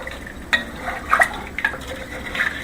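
A utensil stirs beef stew with potatoes in a pot, making a few sharp clinks against the metal with soft wet sloshing in between, close and fairly loud.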